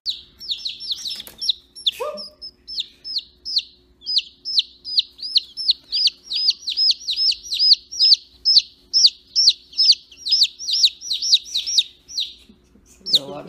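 A weak hen rescued from a pile of dead birds gives a long series of rhythmic, high chirping peeps, loud and close, with a brief human sound early on.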